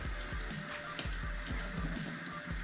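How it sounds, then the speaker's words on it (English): Tap water runs steadily into a sink while soapy hands are rinsed under it. The stream makes a constant close splashing rush, with faint rhythmic low pulses underneath and no talking. "rinse them off"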